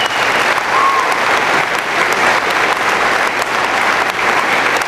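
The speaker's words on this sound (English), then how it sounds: "give that group of seniors one more round of applause" Loud, sustained applause from a crowd welcoming home a championship high school football team, steady clapping filling the whole stretch.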